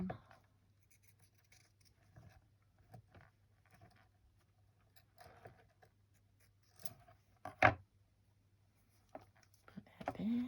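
Scissors trimming small fabric scraps for a tiny nest vessel, quiet scattered snips and light rustles with a sharper snip or two, faint and close in a quiet room, with brief bits of voice.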